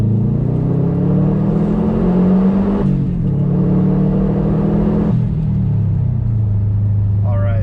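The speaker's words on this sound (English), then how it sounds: "we'll get down in the second gear and we'll give it a little rip ski" A car fitted with a Perrin cold air intake accelerates hard in second gear, engine note rising and pulling, then a shift and a second climbing surge, loud and close, with someone talking over it.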